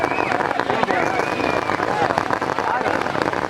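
Firecrackers burst outside a jallikattu bull-taming arena, a dense continuous crackle mixed with crowd roar and shouting, loud and sustained throughout.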